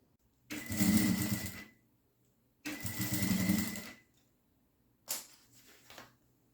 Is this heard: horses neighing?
no